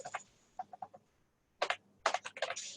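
Shell command being typed on a computer keyboard, clusters of quick close key clicks separated by short pauses, with a final burst of rapid typing.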